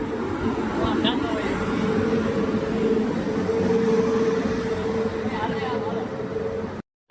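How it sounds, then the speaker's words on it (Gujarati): A passenger train pulls into a station on the Wankaner to Junagadh route in Gujarat, a steady loud rumble with a sustained tonal whine that lasts throughout, and people talk over it. "અમારી ટ્રેન આવી ગઈ છે"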